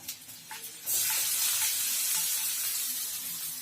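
Garlic and chopped onion hit hot oil for khesari saag, with a sudden loud sizzle that starts after a few soft clinks and then keeps hissing steadily and close, without talk.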